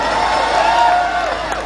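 An audience at an engineering college function in Sikar cheers and whoops in a brief, steady roar of crowd noise, loud and close throughout.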